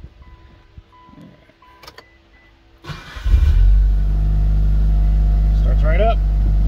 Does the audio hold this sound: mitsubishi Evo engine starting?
yes